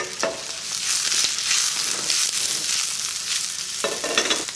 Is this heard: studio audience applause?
no